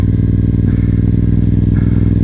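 A Honda RC51 motorcycle is ridden on a hot day, its engine giving a loud, close, steady throbbing drone with even pulsing and no speech over it.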